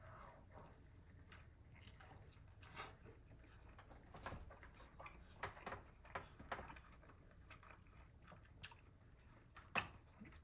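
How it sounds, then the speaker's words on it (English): Someone chews a bite of a Del Taco chipotle carne asada burrito with cheese and potatoes, making soft, wet, irregular mouth sounds close to the mic, fairly quiet with a few sharper clicks. "let's take another bite"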